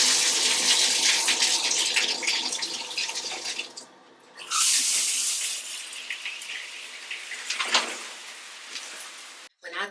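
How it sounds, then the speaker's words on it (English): A hot shower runs with a loud, broadband rush of water that stops briefly partway through, returns, then shifts as the flow changes before cutting off at the end. "I'm going to take me a nice long hot shower."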